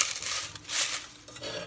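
Spices clink and patter into a metal saucepan in a few quick bursts, close and fairly loud.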